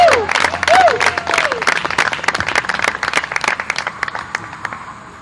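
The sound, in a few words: applause for Mia and Mario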